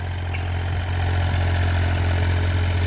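A 2005 Mahindra 265 DI tractor engine idles steadily close by, a loud, continuous low diesel throb with a faint knocking texture and no voices.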